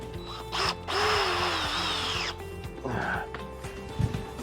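A power drill drives a screw through a bracket into an ornamental fence section, whirring in a few short bursts of rising pitch with brief pauses between them, close by and without talk.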